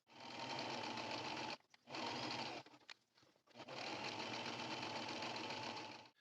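Sewing machine running a half-inch seam on fabric for a drawstring project bag, in close, quiet bursts: a stretch of stitching, a short pause, another burst, a brief stop, then a longer continuous run.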